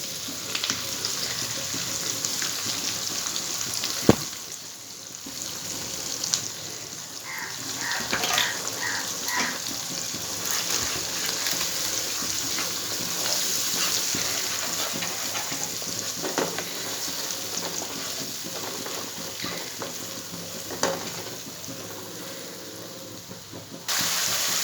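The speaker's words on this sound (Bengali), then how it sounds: "দেখো, পেঁয়াজটা ভাজা হয়ে গেছে।" Onion paste frying in a pan for an egg curry, a steady close sizzle and crackle running throughout with occasional stirring clinks and scrapes, no talking.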